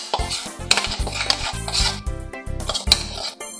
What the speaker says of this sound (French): Je vais les mélanger avec les noix de tigré.